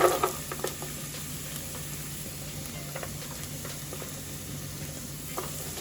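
Carrots go into a sizzling pan with onion, garlic and thyme, a steady close frying hiss with a few stirring clatters at the start and scattered scrapes throughout.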